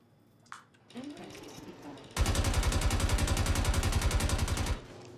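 Automatic gunfire from a weapon discharging on its own in the Star Citizen video game: a loud, rapid, continuous burst of evenly spaced shots lasting over two seconds, preceded by quieter clatter and movement.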